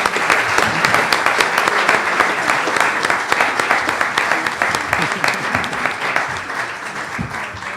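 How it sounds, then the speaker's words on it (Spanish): Sustained audience applause after a speaker is introduced at a molecular genealogy conference, dense clapping at steady loudness with a voice or two faintly beneath. "Un aplauso, por favor"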